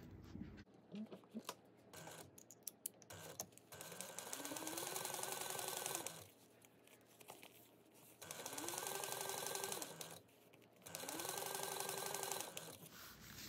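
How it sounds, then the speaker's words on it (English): A sewing machine runs a 3/8 inch seam through a lined project, running in three long steady bursts separated by pauses and handling noises. "you're going to sew this at a 3/8 inch seam allowance"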